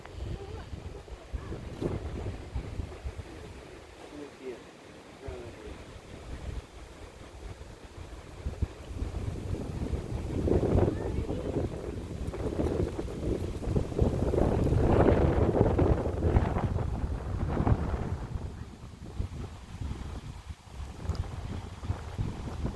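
Gusting wind buffets the microphone out on the water during a fishing trip from a boat, swelling louder in the middle and easing off, with faint water sounds underneath.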